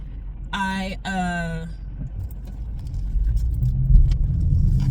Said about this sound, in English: trying to wait for these cars